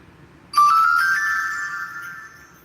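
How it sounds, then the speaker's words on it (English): The Presso notification tone on a phone plays once, a single bright chime that rings out and slowly fades over about two seconds, clear and close with no talk. "My notification sound is called Presso."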